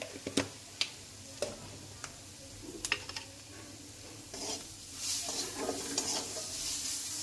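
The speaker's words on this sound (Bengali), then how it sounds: "একটু ফোড়ন দিয়ে দিলাম।" Whole spices tempering in hot oil for a fish curry with potatoes, a quiet sizzle building in the latter half, with scattered sharp ticks of a utensil against the pan and no talking.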